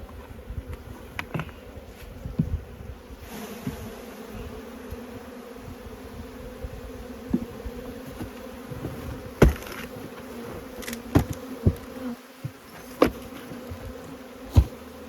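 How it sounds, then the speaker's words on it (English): Honeybees buzz continuously close by at an open hive, with scattered sharp knocks and clatters over the busy humming. "there's lots more bees here yet."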